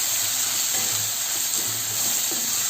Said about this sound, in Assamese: এতিয়া এইখিনি ভাজি থাকিম যেতিয়ালৈকে নিসিজে।